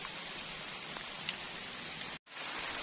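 Steady, dense hiss of rain drumming on a tent at night during a solo camping trip, constant and close with a brief dropout near the end.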